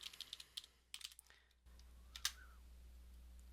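Keyboard typing on a computer in a quiet room, a quick run of light clicky keystrokes in the first second or so, then a few scattered taps before the sound settles into low background hum.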